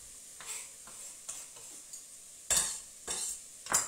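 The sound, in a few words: sautéing garlic with carrots and onions for bolognese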